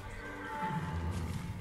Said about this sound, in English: I shot a horse.